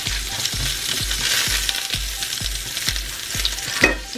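Onions sizzle in a hot pan for sweet and sour pork, with a utensil stirring in regular strokes roughly every half second under a steady hiss, close and fairly loud, no voices.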